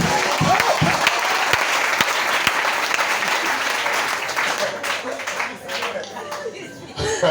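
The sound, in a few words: congregation applauding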